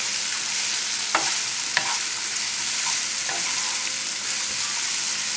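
Broccoli florets and stem pieces stir-frying in a pan over a high flame, a steady loud sizzle with a couple of sharp utensil scrapes and clinks as the vegetables are tossed.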